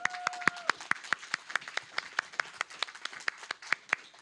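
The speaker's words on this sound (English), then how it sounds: "I just wanted to give a round of applause to Steve for his speech." A small group at a student and faculty tribunal session claps for Steve's speech, sparse, distinct hand claps in a loose rhythm, fairly close, with a brief steady tone sounding at the very start.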